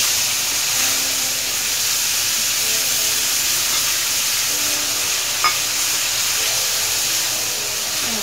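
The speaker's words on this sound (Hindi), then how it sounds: "इसमें डालेंगे दो प्याज चॉप करी हुई" Chopped onions and ground masala sizzle steadily in hot oil for dhaba-style dum aloo, a loud continuous hiss with a faint scrape of stirring.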